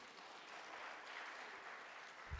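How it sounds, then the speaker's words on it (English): At a youth summit, the crowd applauds Henry with a faint, distant, even spread of clapping that holds steady throughout, ending with a brief low thump. "A round of applause to Henry."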